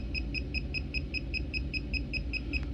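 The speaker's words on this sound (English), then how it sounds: "Now you can tell when it gets close to this unit, it'll start beeping." A KAIWEETS circuit breaker finder held near the breaker emits a fast, regular series of short high beeps, about five per second, faint against a low background hum.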